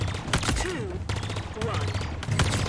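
Rapid gunfire cracks at a shooting range in a first-person video game, several sharp bursts spaced across a couple of seconds, fairly close and punchy over a low rumble.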